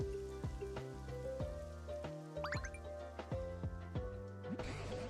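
Rain falls in the Pokopia video game, a faint, steady patter of drops under a soft melodic music track with plucked notes, the rain hiss swelling briefly near the end.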